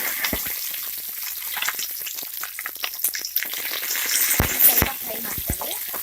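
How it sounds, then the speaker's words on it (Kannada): Cut green chillies fry in hot oil in a pan, a bright close sizzle with crackling spatters and a few sharp pops and stirring knocks, filling the whole stretch without talk. "ಈಗ ಕಟ್ ಮಾಡಿರೋ ಮೆಣಸಿನ್ಕಾಯಿ ಹಾಕ್ತಾ ಇದ್ದೀನಿ."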